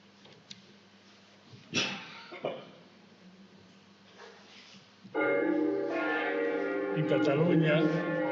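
A church bell rings out loud and sustained with a dense ringing tone and its swells, after several seconds of quieter background and a few brief knocks and coughs.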